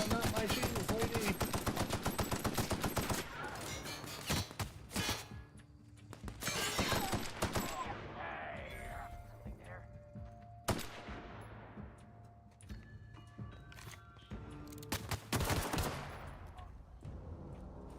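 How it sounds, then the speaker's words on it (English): Rapid gunfire from a hunting rifle in the video game The Outer Worlds, loud bursts of shots crowding the first few seconds, then scattered sharper reports and game sound effects for the rest of the stretch. "Hunting rifle."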